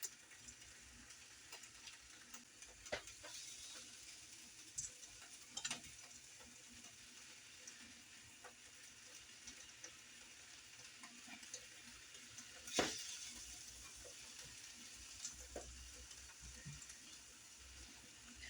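Faint, steady sizzling and crackling of a ham slice frying in a hot pan, with a few louder pops.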